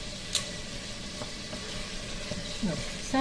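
Hot oil sizzles in a pressure cooker while mutton masala is cooked, a low steady hiss with a few light clicks and utensil touches.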